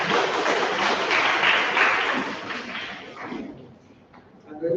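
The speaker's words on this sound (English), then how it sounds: "Please, give one applause" Audience applause in an orthopaedic medical conference hall, a dense crowd of clapping that swells for about three seconds and then thins out, fading to sparse scattered claps.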